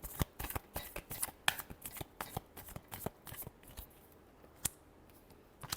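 Tarot cards riffled and shuffled by hand, a quick run of crisp snapping flicks close up, pausing briefly before a final few sharp snaps, quiet and alone.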